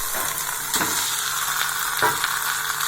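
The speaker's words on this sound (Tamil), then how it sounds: "இப்போ நல்லா இதை கிண்டணுங்க இந்த மாதிரி நல்லா வதக்கியாச்சுங்க" Flour dough is stirred and sautéed in a hot pan, making a loud, steady sizzle with soft scraping strokes of a spoon at irregular intervals, and no voices.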